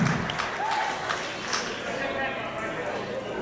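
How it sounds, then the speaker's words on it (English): Audience applause at a live independent wrestling show, with a steady wash of crowd clapping and cheering that runs under someone talking loudly over it. "Clap for Marissa!"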